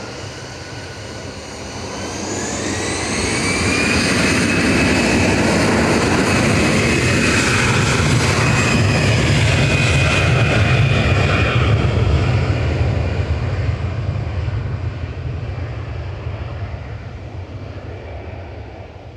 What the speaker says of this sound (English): EasyJet's OE is departing now back to Milan with flight